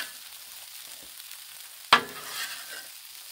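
Red beans and rice sizzle steadily on a hot Blackstone griddle, with a sharp scrape or clatter of stirring near the middle of an otherwise low, even frying hiss.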